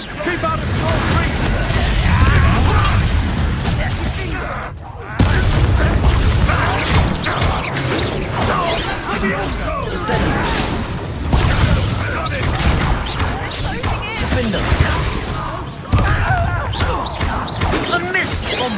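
Bombarda spell explosions in Hogwarts Legacy combat: heavy, repeated booms and crashing blasts in quick succession, loud and close, layered over busy battle noise and voices.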